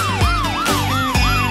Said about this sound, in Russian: Застонали сирены,